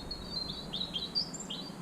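Small birds chirping near a garden bird table outdoors on a breezy day, a handful of faint, high, quick tweets scattered over soft wind noise.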